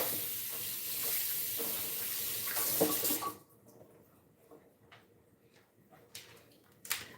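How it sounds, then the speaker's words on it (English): Pork rinsed under a running kitchen tap gives a steady broadband rush of water for about three seconds, then it cuts off, leaving faint handling clatter and quiet kitchen noise. "Just gonna rinse this off."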